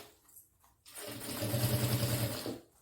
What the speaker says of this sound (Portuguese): Eu vou passar agora a costura